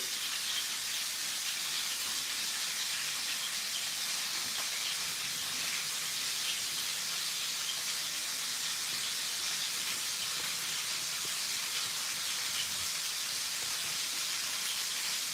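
Lamb shanks frying in a pan give a steady, soft sizzling hiss that runs evenly throughout, with no voices.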